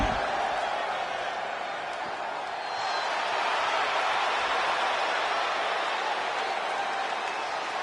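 Wrestling arena crowd in WWE 2K25 cheering in a steady, roaring wash of noise that swells slightly midway, sustained throughout with no distinct individual voices.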